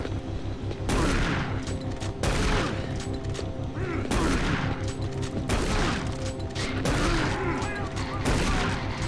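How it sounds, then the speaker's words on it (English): Repeated heavy shotgun blasts from Doom 3, loud and close, bursting in clusters across the stretch with monster noises and game clatter between, the player talking in the background. "Shotgun time!"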